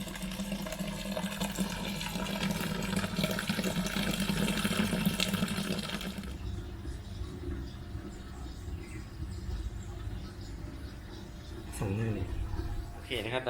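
Homemade jasmine rice beer being poured and transferred between vessels: a steady rushing flow of liquid for about six seconds, then quieter trickling and handling sounds, with someone speaking over it.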